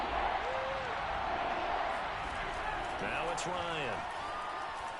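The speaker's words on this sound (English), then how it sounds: "Crowd getting in it a bit already." Football stadium crowd roars and cheers steadily through the clip, a broad sustained wash of noise beneath a commentator's voice, with scattered whistles and shouts rising near the end.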